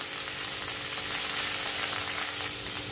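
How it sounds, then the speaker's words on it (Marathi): Paneer cubes sizzle steadily in hot oil in a pan, a dense, even frying hiss that carries on without a break and no one speaking. "पनीरला 2 मिनिटं रोस्ट करून घेतलेलं आहे"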